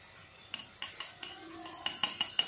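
Ground homemade nahari masala is sifted through a sieve, giving a series of light metallic taps and clinks that come faster toward the end, over a quiet background.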